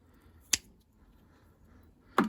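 Sharpened pruning shears snip through a fruit tree branch twice, each cut a crisp, close click about a second and a half apart, with quiet in between.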